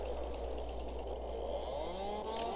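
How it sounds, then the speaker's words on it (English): A chainsaw in Farming Simulator 22 runs continuously while cutting down small trees, a steady engine buzz with rising and falling pitch held at a moderate level throughout. "chainsaw there, and we'll get some of these smaller trees cut down."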